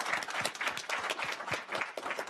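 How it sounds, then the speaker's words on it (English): Audience applause for a panel at a community finance collaborative event, dense steady clapping from a sizable crowd filling the room for a couple of seconds. "And let's give them a round of applause."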